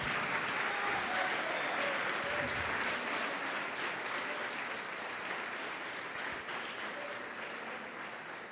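A church congregation claps continuously in dense, sustained applause that fills the whole stretch, heard from a little distance with a constant roomy wash.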